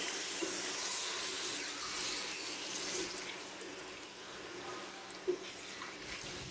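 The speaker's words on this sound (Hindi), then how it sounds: "अब हम यहाँ पर इसमें बीफ ऐड करेंगे, ये मेरे पास है 3 पाउच। अब यहाँ पर हम इसे 5 से 7 मिनट के लिए अच्छी तरह से फ्राई करेंगे।" Beef frying in a pan for a Bihari masala gravy gives a steady, soft sizzling hiss throughout, with one brief louder pop near the end.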